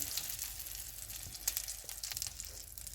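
Masala chicken boti cooking on the stove, sizzling softly in a pan with a steady crackling hiss and a few small pops, fairly faint and without talk.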